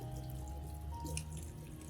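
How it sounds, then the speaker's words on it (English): Clean water runs from a tap over an orchid's roots in a steady, faint stream, with no talk. "Rinse the orchid again with clean water under a tap."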